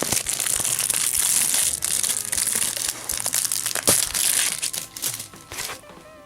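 Plastic shrink wrap torn off a Final Fantasy VIII Remastered physical Switch game case, a close, continuous crinkling and crackling of thin plastic with sharper rips throughout.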